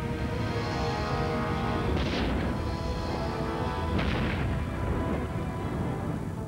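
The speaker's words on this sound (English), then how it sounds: "the burning metal is so hot it melts through the trailer floor and is dropping into the pools of water below, setting off even more explosions" Burning magnesium melts through a trailer floor into pools of water below, setting off a continuous roaring rumble broken by two sharp crashing bursts, loud and close, with no speech.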